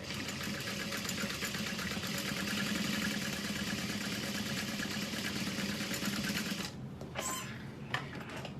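A sewing machine stitches a second line on a barrel bag with a rapid, steady mechanical chatter, close and continuous, then stops near the end and leaves a few faint clicks.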